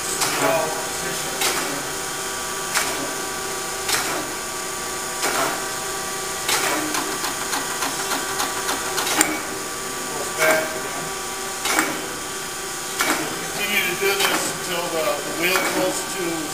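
Chevalier surface grinder running with a steady whir and hum, regular clunks as the table reverses roughly every second and a half, and a voice talking over the machine.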